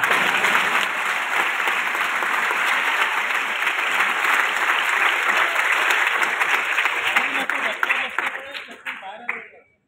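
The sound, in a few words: audience applause at a political speech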